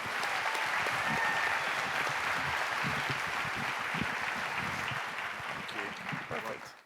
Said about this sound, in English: Keep the applause going now for Harwood Taylor.